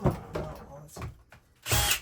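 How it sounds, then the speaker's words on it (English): Short, gritty bursts of a power drill pre-drilling a hole whir up close during a whole-house water filter swap, separated by quieter handling noise and a low voice. "We're gonna pre-drill this one here."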